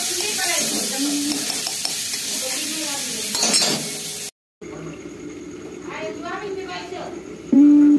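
Oil poured into a hot wok bursts into a loud, hissing sizzle with some clinks of a pan, while a voice talks over the frying; after a brief cut the sizzle continues more quietly.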